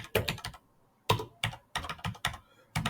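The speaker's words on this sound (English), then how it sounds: "Let me type it out." Bursts of keystrokes on a computer keyboard, typed out in several quick clusters with short pauses between them, close and fairly clear with no talking over them.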